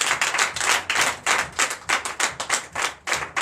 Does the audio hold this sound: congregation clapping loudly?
yes